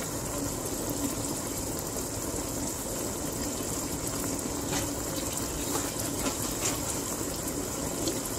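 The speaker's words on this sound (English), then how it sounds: "pour some water in my oxtail" Water pours steadily into a pot of fried-down oxtail, a continuous close rushing splash with no talk.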